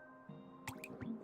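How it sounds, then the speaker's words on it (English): A single raindrop strikes a puddle, giving a close, crisp plip with a small liquid splash and a softer drip following it, set against a faint background hum. "This happens every time a raindrop hits a puddle."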